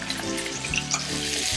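Beef short rib sears in a hot, smoking pan with garlic and rosemary, giving a loud, close, continuous sizzle with bursts of spatter and scraping stir sounds, and no voices.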